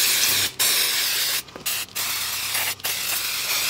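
Contact cleaner sprays from a can onto a 14 cm PSU fan in short, loud, close hissing bursts, each cut off by a brief gap of quiet, with a faint rattle of the fan between bursts.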